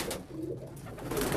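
Pigeons in a loft give soft, continuous low cooing, close and steady, with a hint of wing and bird movement behind. The birds are squab and homing pigeons kept for flying and meat.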